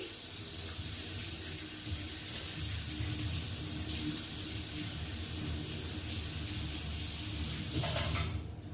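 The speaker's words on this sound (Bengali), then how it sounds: "আমি এবার জল দিয়ে পালং শাকটাকে ভিজিয়ে রাখলাম আর সবজিগুলো একটু ধুয়ে রাখি" Tap water runs steadily into a kitchen sink while spinach and vegetables are washed, a faint, constant splashing that swells briefly near the end.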